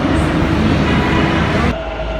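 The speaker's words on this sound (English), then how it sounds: "They also have ones that are more like sky trains that go above ground as well." A Bangalore metro sky train runs on an elevated track above ground, giving a loud, steady rumble of wheels and carriage that holds for about two seconds, then eases slightly and continues with a faint high whine.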